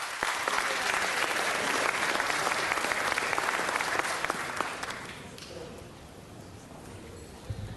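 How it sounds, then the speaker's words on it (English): A city council meeting audience gives a warm round of applause, dense clapping for several seconds that tapers off into quiet room noise. "Let's give her another round of applause"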